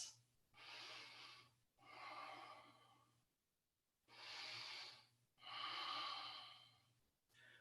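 Slow, audible breaths in and out during a yoga pose, about four soft airy breaths close to the mic, with a faint steady hum behind them and no talking.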